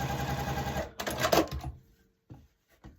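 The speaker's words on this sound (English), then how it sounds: "let's make sure I sew this one on right" Sewing machine stitching a quilt block, a fast rhythmic mechanical chatter running close and steady for about a second and a half, then stopping, followed by a few faint clicks and handling sounds.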